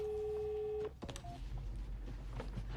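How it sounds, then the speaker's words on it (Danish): A telephone rings in an emergency call centre, with steady electronic ringing tones in the first part, then clicks and low room noise as the call is picked up. "Det ringer."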